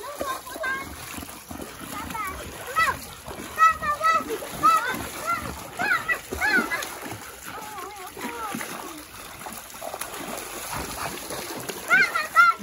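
Water splashed at a dog in a shallow pool, repeated sloshing splashes under steady talk from adults and a child.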